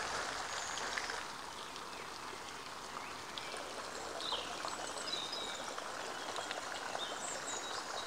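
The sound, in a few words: water feature flowing in botanical gardens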